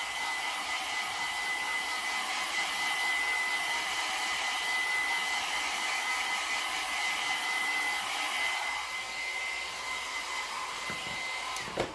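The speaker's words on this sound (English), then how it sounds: "I'm going to quickly blow dry this" A hair dryer blows steadily on a paper craft tree cutout, a loud continuous whooshing roar that holds for about twelve seconds with a slight shift near the end, alone with no voices.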